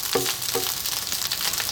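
Rice frying in a pan over high heat, a steady close sizzle with two brief stirring clatters near the start, continuing alone without talk.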